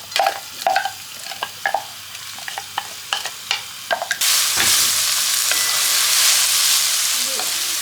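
A large chopped onion sautés in a pan: first a run of sharp spatula taps and scrapes over a light sizzle, then a sudden loud, continuous frying hiss that fills the rest.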